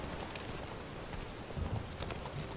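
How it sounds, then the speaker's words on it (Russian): Heavy downpour with rumbling thunder in a stormy scene in The Witcher 3: Blood and Wine, a steady wash of rain with low thunder swelling near the end, no talking. "Крайне драматичная погода именно для такого квеста подходит. Ливень, гроза."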